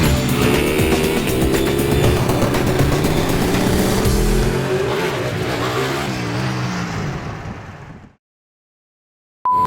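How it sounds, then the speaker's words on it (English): Loud, continuous roar of the world's fastest roller coaster at Ferrari World, a dense rushing rumble that surges and slowly fades before cutting to near silence at the end. "We're about to embark on the world's fastest roller coaster"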